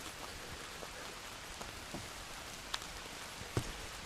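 Steady rain falls on a hiking trail along the Vermont Long Trail, a faint continuous patter with a couple of sharper drops landing nearby, no voices.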